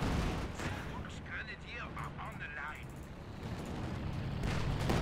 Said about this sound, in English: I love the fact I can just call in that artillery strike.